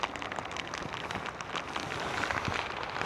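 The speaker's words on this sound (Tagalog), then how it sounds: "Yan, lakas pa rin po na ulan." Heavy rain falling outdoors, a steady soft hiss of drops with scattered sharper patters, fairly faint and continuous without talk.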